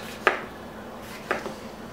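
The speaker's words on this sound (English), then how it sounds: "we'll slice off this tomato without slicing off my finger, hopefully" A knife chops through a tomato on a cutting board in a home kitchen while making guacamole, giving two quick, fairly faint thuds about a second apart against a quiet room.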